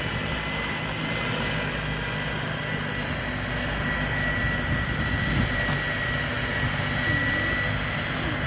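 An Ego two-stage battery snow blower runs steadily and close through about 2 inches of fluffy snow, a constant loud whirring drone with no pauses and no talk.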